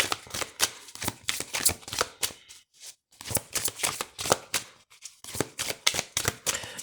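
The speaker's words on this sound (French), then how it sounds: "je vais monter un petit peu les cartes" Tarot cards are shuffled and handled on a table, giving a close, crisp run of rapid riffling flicks and snaps in bursts separated by short pauses, with no talk.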